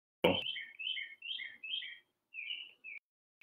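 Bird chirps outdoors: a short series of bright, two-note tweets repeated at a steady pace, fairly clear and close, after a brief noise at the start.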